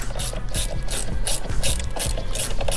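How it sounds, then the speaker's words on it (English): Ratchet tightening sway bar link bolts on a Can-Am Ryker, its loud, close pawl clicking repeating in a steady back-and-forth rhythm of strokes, alone without talk. "I'm just gonna tighten them up."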